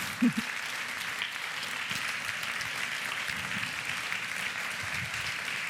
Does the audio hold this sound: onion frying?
no